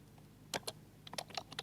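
A computer keyboard clacks as an SQL query is typed, with a few sharp keystrokes followed by a quicker cluster of taps, close and fairly quiet over a low background hum.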